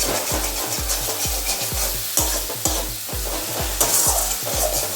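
Spice paste for a stingray fish curry fries and is stirred in a pan, with a steady sizzle broken by regular scraping strokes of the spatula, close and alone.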